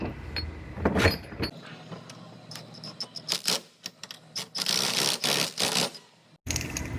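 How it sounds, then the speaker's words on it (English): A wide-bite clamp is fitted onto a part being flattened to restore its angle. Close, loud metallic clanks, clicks and ratcheting scrapes come in uneven bursts, with a brief silence near the end. "So I'm gonna put this clamp on there real quick."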